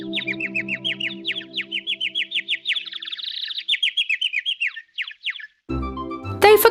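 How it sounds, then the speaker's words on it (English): Small bird singing a rapid series of bright chirps and trills, close and clear for several seconds, followed by a short burst of other louder sound at the end. "The bird chirped songs with its beautiful voice for them."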